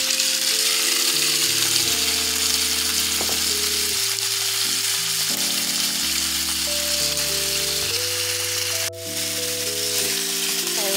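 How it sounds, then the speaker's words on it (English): Steady, loud sizzling of chicken frying in hot canola oil in a pan, continuous throughout with some music-like tones layered over it. "once your frying pan reaches temperature, we're going to go ahead and pour our chicken in."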